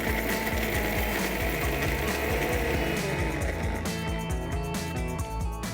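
A mixer grinder runs dried red chilies and white peppercorns into powder, a loud whirring motor with a fast, rattling rhythmic clatter throughout, close up.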